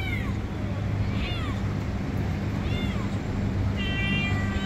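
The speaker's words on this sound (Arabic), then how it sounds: "قطط جميلة جدا" Cats meowing at a street pet market in Baghdad's Adhamiyah district, several thin rising meows spaced through a steady outdoor hum and crowd murmur.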